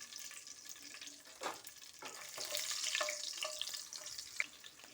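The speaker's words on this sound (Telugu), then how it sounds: "ఆయిల్ పెట్టుకుని పోపు గింజలు వేసాను. ఎల్లుల్లిపాయలు వేస్తున్నాను." Garlic and green chillies fry in hot oil with tempering seeds, giving a close crackling sizzle broken by stirring scrapes and spatula clinks, with no voices heard.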